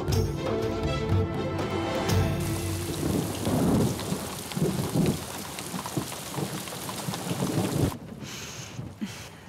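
Heavy rain pours steadily while rolls of thunder rumble and crack through a storm, loud and close, continuing for several seconds before fading abruptly near the end.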